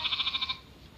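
A goat gives a single short, wavering bleat, fairly close and moderately loud, that trails into quiet outdoor background.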